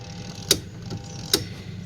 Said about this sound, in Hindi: इसमें आवाज़ आ रही है मोटर के अंदर